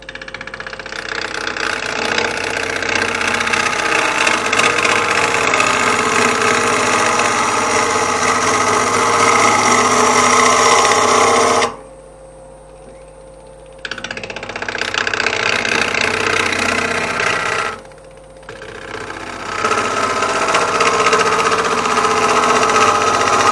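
A wood lathe spun up to a higher speed turns a cherry wood tripod bowl under a sharp 13 mm gouge, giving a loud, steady motor drone with rough cutting noise that drops away twice for a few seconds.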